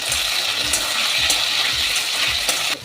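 Cut potatoes added to hot oil seasoned with five-spice, dry chillies and leaves, sizzling loudly and steadily with soft crackles and light stirring, no voices.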